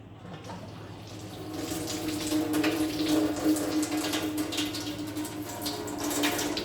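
Water streaming from a Kangen K8 water machine running on cold water, a steady splashing flow that grows slightly louder and fuller after the first couple of seconds and then continues evenly.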